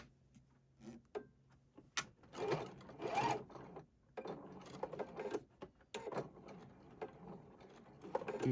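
A single-needle sewing machine stitches in slowed-down motion, giving irregular bursts of mechanical whirring and clicking separated by quiet pauses, close and faint.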